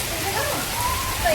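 Heavy monsoon rain pours steadily onto a flooded street lane, a dense continuous hiss close by with faint tonal sounds drifting through it.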